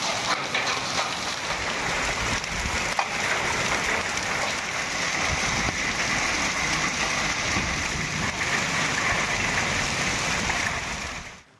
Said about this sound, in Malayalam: വെല്ലൂരിൽ ആലിപ്പഴ വർഷത്തോടെ ശക്തമായ മഴ പെയ്തു